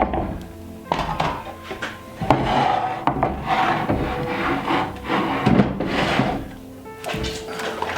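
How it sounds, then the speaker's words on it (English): A hand pull saw trims an excess piece of wood on a straight-line cut jig, giving rough rasping strokes with occasional thunks, close and fairly loud. "we can trim off this excess bit with a simple pull saw."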